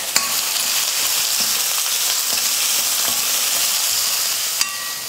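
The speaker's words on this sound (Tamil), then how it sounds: "வெங்காயம் நல்லா வதங்கிடுச்சு." Steady, close sizzling of chopped onions sautéing in hot oil, a dense continuous crackle with a couple of sharper pops, no talking.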